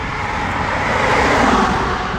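Steady roar of traffic on a main road close by, a broad continuous rush of passing vehicles mixed with wind noise, with no voices.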